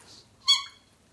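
A squeaky dog toy gives one short, sharp, high-pitched squeak, heard alone amid quiet indoor background.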